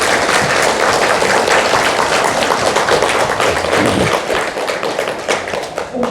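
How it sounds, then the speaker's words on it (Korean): An audience at a meditation retreat lecture gives a big round of applause, loud dense clapping that holds steady and then thins and tapers toward the end. "다시 한번 큰 박수로 맞아"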